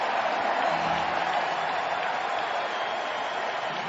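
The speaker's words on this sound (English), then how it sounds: "That sounds like some derisive cheering. That's sarcastic." Baseball crowd at a 2015 NLCS playoff game, Game 4, giving sarcastic, derisive cheering: a steady, dense wash of distant stadium noise with no distinct claps or shouts standing out, holding level throughout.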